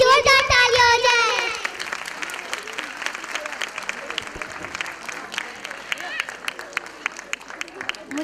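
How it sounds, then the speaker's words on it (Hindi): Loud audience applause at a school annual function, dense clapping from a large crowd that begins under a voice and music-like tones, then continues as sharp, scattered claps with some crowd noise. "एक बार मेरे मैम और सर के लिए जोरदार तालियां हो जाए।"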